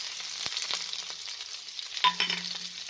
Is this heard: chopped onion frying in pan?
yes